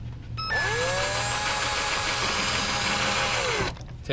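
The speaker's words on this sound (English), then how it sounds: "I'm just gonna drill a pilot hole for hole number 4" A power drill whirs steadily for about three seconds while drilling a pilot hole for a mud flap on a 2013 Mitsubishi Lancer Evolution X, its pitch holding high and then winding down, close and loud with no talking.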